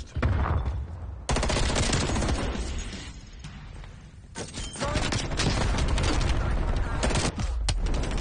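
FFAR 1 rifle fire in Call of Duty Cold War, loud rapid automatic bursts in long sustained runs with brief pauses between them, dense and close, with explosions and game effects mixed in.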